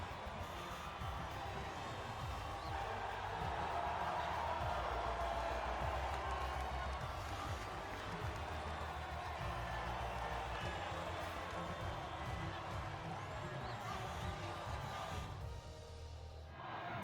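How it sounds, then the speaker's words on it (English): In the F1 25 racing game, a large Grand Prix crowd cheers and applauds in a dense, continuous roar that stays loud and steady throughout and drops away slightly near the end. "It's an emotional moment as the crowd rise once more to congratulate your"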